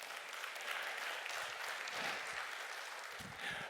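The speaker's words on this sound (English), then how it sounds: "go ahead and clap on that one." Church congregation clapping during a sermon, a faint, steady patter of many hands at a distance with a few low thumps and no clear talk.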